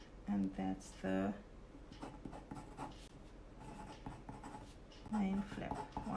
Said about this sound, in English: Why is my pencil not writing?